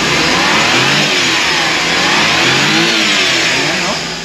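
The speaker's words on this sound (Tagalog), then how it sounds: "So check natin yung power." A Suzuki Every Wagon's turbo engine revs up close, swelling and falling in loud throttle blips, with faint talk underneath.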